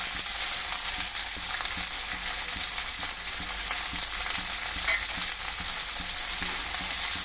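Onion and green chilli frying in a pan for an amaranth liver curry, a steady close sizzle with a continuous hiss and faint intermittent stirring scrapes throughout, no voices.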